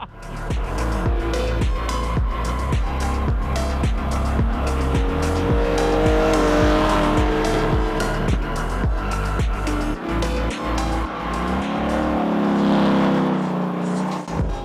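Drift car tires squeal loudly and continuously from inside the passenger seat, the engine revving hard and rising and falling with each slide through a run of laps.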